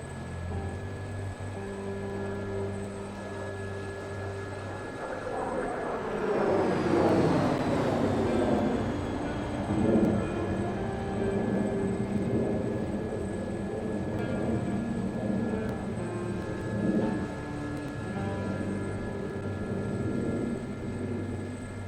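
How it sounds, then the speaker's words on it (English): A jet in a virtual Frecce Tricolori airshow game, Pony 10, makes a high-speed inverted pass before spectators. The roar swells and sweeps in pitch as it passes, then a steady engine drone continues. "Another extreme maneuver for Pony 10 coming at high speed."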